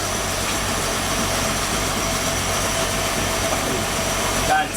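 A 1972 Toyota Crown barn-find engine idles low and steady, a loud continuous rumble running throughout, with a brief disturbance near the end.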